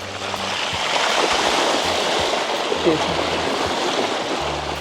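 A mountain bike splashes through a shallow creek crossing on a Henry Coe trail, a steady rushing slosh of water close by, with a rider talking over it.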